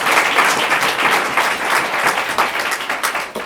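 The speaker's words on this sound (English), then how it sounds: "Let's please give them a very huge round of applause" Audience applause for teachers at a stock exchange opening bell ceremony in Botswana during World Investor Week, loud sustained clapping from a sizable crowd, dense and even, tapering slightly toward the end.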